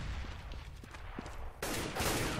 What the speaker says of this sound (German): Hoxy. Ist da noch zur Stelle mit seiner AWP, trifft er wirklich nahezu jeden Schuss.